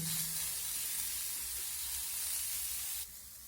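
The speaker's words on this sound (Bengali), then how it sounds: "তো হলুদের গুঁড়ো দেওয়ার পর আমি আবারও নেড়ে চেড়ে এইভাবে ফুলকপিটাকে ভেজে নেব।" Cauliflower fries with turmeric in a pan, giving a steady, close, bright sizzle and hiss that drops slightly in level near the end, with no talking.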